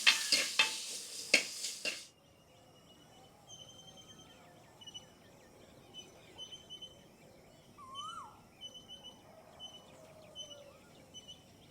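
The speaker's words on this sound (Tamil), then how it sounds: "உளுந்து வெந்தயம், அது கூட வெங்காயம் தக்காளி இது எல்லாத்தையும் நல்லா வதக்கிட்டேன்" Onion, tomato, urad dal and fenugreek sauté in hot oil, with a few loud stirring scrapes at first, then a faint continuous sizzle, and birds calling softly in the background.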